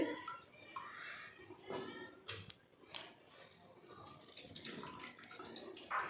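Water squeezed by hand from soaked soya chunks in a kitchen, producing soft dripping and splashing that runs continuously under a speaking voice.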